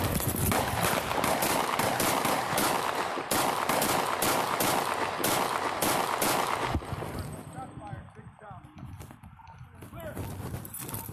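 Police gunfire on a residential front porch, a rapid volley of loud sharp shots in close succession for several seconds, then stopping abruptly, with shouting voices mixed in and lingering noise afterward.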